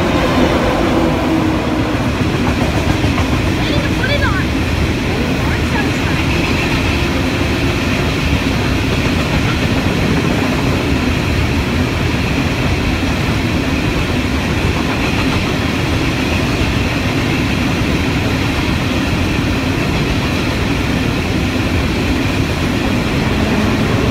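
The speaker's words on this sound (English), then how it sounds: "We have a freight train passing MacArthur." Freight train led by locomotive TT104 passing MacArthur station, a loud continuous rumble and rattle of wagons holding steady for the whole stretch, close and with no talk.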